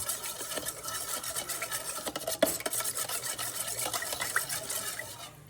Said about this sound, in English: And stir it up nicely.